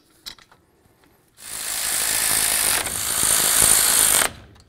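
Ratchet threading in the brake caliper bolts on a 2017-or-later Ford F-350 dually, a loud, steady, buzzing mechanical whir lasting about three seconds after a brief faint tap, close up.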